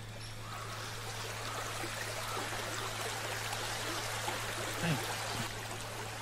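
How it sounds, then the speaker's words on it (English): Rushing, running water of a stream, played as a steady broadband hiss of flowing and trickling water at low volume, with faint speech in the background. "eventually in the distance you can hear the rushing and running of water"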